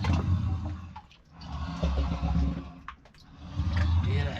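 River water in Glen Dye, Scotland, surges through holes and draws in air, giving a deep, rumbling, breath-like roar that rises and falls in waves, with faint voices in the background.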